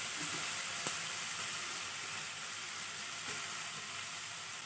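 Grated carrot fries in a pan with a steady, close hiss and soft crackle, plus a couple of faint clinks from stirring, with no talk.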